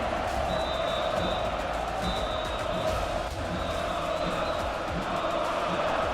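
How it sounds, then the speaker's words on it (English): A crowd cheering for an esports champion, a steady far-off roar of many voices with no breaks, moderately faint. "And you hear them cheer for you right now, Supa."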